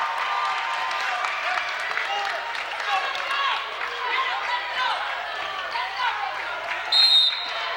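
Manasquan fans cheer in a busy gym during a boys' basketball game, a dense crowd roar with shouts and a commentator talking over it, plus a brief sharp squeak near the end.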